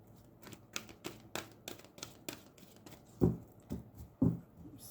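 Tarot cards being shuffled by hand, a string of soft, crisp riffling taps and slaps at an uneven rhythm, close and fairly quiet with no voices.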